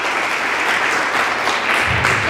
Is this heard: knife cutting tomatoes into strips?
no